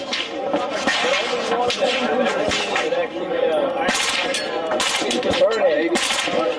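An MP5 fires full-auto bursts through a Shaw Armament ThunderCan suppressor, producing muted, clattering strings of shots in several bursts at close range, with people talking between them.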